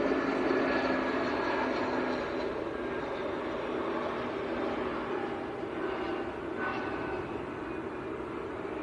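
Lufthansa Airbus A321 in new livery arriving from Frankfurt and landing at Manchester Airport, a steady broad distant jet roar lasting throughout, fairly even in loudness with no talk.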